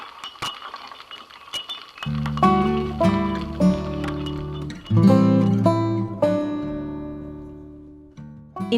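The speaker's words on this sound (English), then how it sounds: "this is the sound of mooring buoys on a heavy chain" Underwater hydrophone recording at an anchorage of mooring buoys on a heavy chain: clinking, clanking metallic knocks over a ringing, resonant low drone, with swells and fades of varying loudness.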